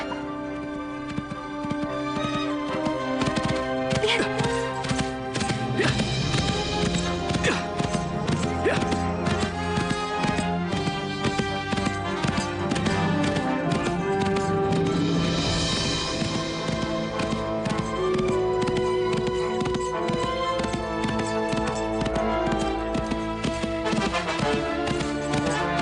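Horse hooves clip-clop in a steady galloping rhythm beneath a dense orchestral drama score, with a horse whinnying at moments in this Indonesian colossal period drama scene.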